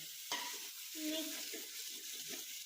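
Masala is stirred and mixed in a pan while cooking biryani: a faint, continuous sizzle with soft scraping strokes of a spoon, quiet and close, with no talking.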